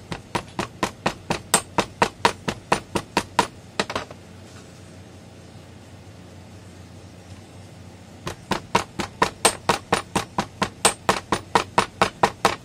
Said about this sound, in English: and we hammer it in.